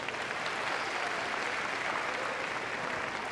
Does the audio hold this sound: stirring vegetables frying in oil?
no